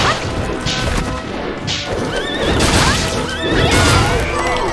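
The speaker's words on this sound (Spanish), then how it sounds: "qué paliza me ha pegado el caballo a las narices" Horse neighing and whinnying repeatedly in Bloodstained: Ritual of the Night, mixed with loud smashing and crashing hits from the horse's attack over dense game music and effects.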